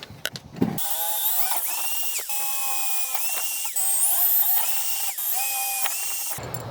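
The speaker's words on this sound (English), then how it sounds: "I'm gonna be using a 3/8 of an inch drill to match that" A 3/8 inch drill bores bolt holes for an armwrestling platform build, giving one sustained, loud, high-pitched motor whine that runs for about six seconds after a short clunk at the start.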